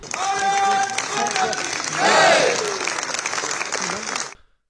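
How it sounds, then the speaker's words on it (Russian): Applause and cheering fill the Indian parliament as members greet the prime minister, a loud, dense wash of clapping from a large crowd with voices mixed in that fades out at the end. "индийский парламент встретил премьера овациями"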